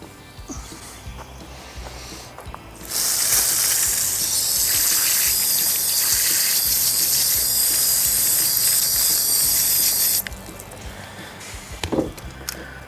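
A steady, loud hissing spray of water rinses Simple Green cleaner off a part from a Johnson TD 20 outboard motor, running unbroken for about seven seconds before cutting off, with quieter handling noises before and after.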